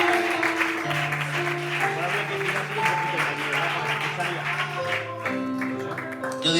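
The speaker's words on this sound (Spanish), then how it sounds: "Le damos un aplauso a la palabra de Dios." Church congregation applauding over sustained music tones, a busy spread of clapping from many hands that thins toward the end, with voices mixed in.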